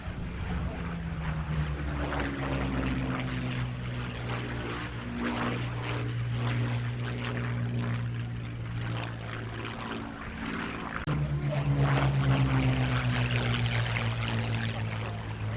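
Curtiss P-36C and P-40F propeller fighters fly at the Duxford airshow with a steady droning engine roar, rising and swelling as they pass, fairly distant and continuous.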